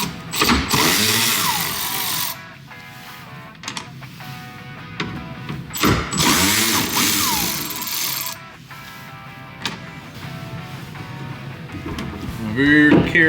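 An 8mm power driver backs out the tail light screws on a Ford Raptor pickup, in two close, loud whirring bursts separated by quieter handling noise.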